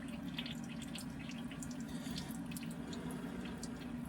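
Water trickles and drips steadily out of the body of a 2016 Polaris SKS 800 snowmobile, a faint continuous pour with scattered splashy drips and no voices.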